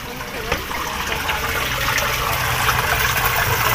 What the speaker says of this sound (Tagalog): Madumi yung tubig na nilalabas ng tubo.